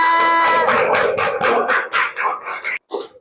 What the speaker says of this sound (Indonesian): Berikan tepuk tangan anak-anak.